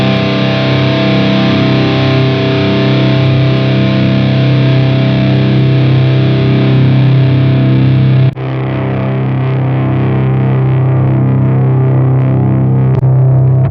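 A heavily distorted electric guitar tone plays through the BIAS FX 2 amp simulator. A loud sustained chord cuts off sharply, then a new chord rings out alone.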